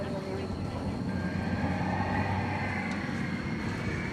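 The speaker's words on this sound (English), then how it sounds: "this plane once again going to Doha. In Qatar." A jet bound for Doha, Qatar, taxis at Dallas Fort Worth airport, producing a steady, broad engine rumble and roar at moderate distance that holds evenly throughout, with faint higher whine on top.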